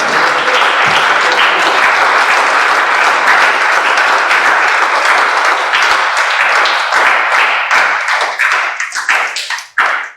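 A church congregation claps steadily and loudly for God during a night sermon, a dense wash of applause that thins into scattered individual claps at the end.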